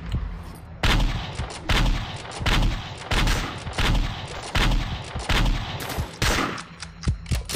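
Gunfire in a Flash video game rings out as a run of loud, sharp shots in uneven bursts roughly every half second to a second, heard alone with no talking.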